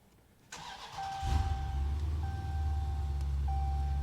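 A Dodge Challenger's engine cranks and fires up, settling into a deep, steady idle, with a repeating electronic chime sounding over it.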